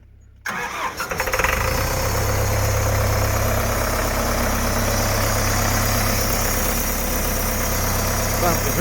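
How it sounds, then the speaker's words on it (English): A water pump engine at a gold mine sluice starts up, then settles into a steady close drone with constant vibration. "Pump is running."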